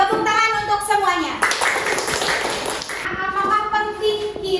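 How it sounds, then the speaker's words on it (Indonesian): Children in a classroom clapping together in a brief burst of about a second and a half, loud and close, with a teacher's voice talking just before and after. "Tepuk tangan untuk semuanya."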